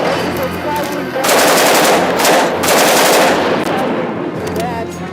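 Dense automatic gunfire and bursting grenade frags fill a competitive esports shooter match, loud and continuous with heavier surges of fire, while a caster's voice talks faintly underneath.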